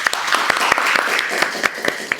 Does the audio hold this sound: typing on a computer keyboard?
no